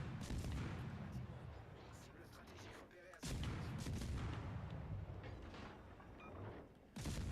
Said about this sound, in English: You can start shooting now.